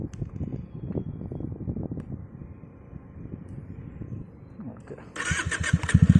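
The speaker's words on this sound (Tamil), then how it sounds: "நம்ம ஒரு ரைடு போயிட்டு பார்க்கலாம் எக்ஸாஸ்டோட சவுண்ட் எப்படி இருக்குன்னு." A Benelli TNT 300 motorcycle with an aftermarket exhaust being started, with low engine rumble and sputter under someone talking, then a louder, rougher burst of engine noise in the final second.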